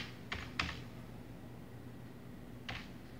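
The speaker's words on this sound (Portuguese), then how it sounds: "Eu vou digitar lá o usuário." A username is typed on a computer keyboard at a login prompt, a few faint, sparse key clicks with long pauses between them over a quiet hum.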